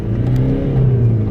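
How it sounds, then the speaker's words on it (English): A BMW 118d E82 diesel hatchback with a fault that makes it cut out under load accelerates toward 4000 RPM, its engine drone loud and close with a steady rising tone and no talking. "I'm gonna go probably up to about 4000 RPMs now."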